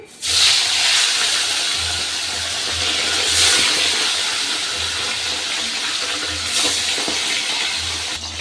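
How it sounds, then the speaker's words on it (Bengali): Salted, turmeric-rubbed tilapia fish pieces fry in hot white oil, giving a loud, steady broadband hiss and sputter that swells and eases, with a low hum underneath. "তেলটা আমার গরম হয়ে গেছে। এবার আমি মাছগুলো ভেজে নিচ্ছি।"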